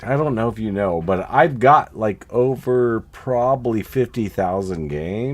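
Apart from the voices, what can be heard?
None of the usual background noises is heard.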